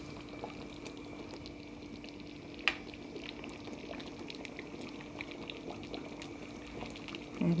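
Tamil-style fish curry simmering in a pot, a soft continuous bubbling burble, faint and close, with a single light ladle clink partway through.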